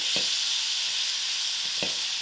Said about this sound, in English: I give this tomato a good mix till my tomato is